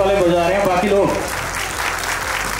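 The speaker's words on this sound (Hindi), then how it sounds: "जोरदार तालियां भाई, सिर्फ उधमपुर वाले बजा रहे हैं, बाकी लोग" Audience applause rises at an awards ceremony as the first notes of music fade out, then continues as a steady wash of clapping for the rest of the moment.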